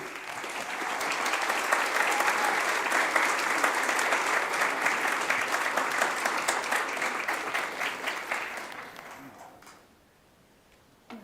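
Sustained audience applause welcoming speakers at a Supreme Court discussion event, steady and full for about nine seconds before tapering off to near silence.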